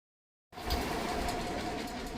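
An electric sewing machine stitches the side slits of a chudidar dress top. After a moment of silence its motor starts abruptly into a steady, close, even whirring hum that holds to the end.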